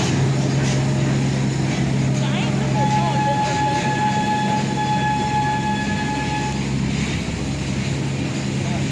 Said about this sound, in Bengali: গুনগুন টয় ট্রেন চড়ছে।